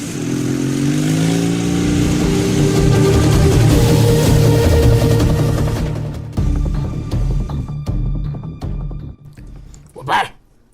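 Motorcycle engine running close by with a loud, rumbling idle that later turns choppy as revs drop, a voice talking over it.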